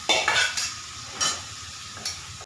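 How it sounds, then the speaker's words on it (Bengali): Boiled cabbage goes into a hot pan and is stirred while frying, with bursts of sizzling and metal scraping at irregular intervals, close and loud, no voices. "সেদ্ধ বাঁধাকপিগুলো আমি দিয়ে দিচ্ছি"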